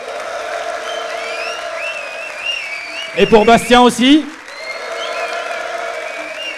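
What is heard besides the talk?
audience applause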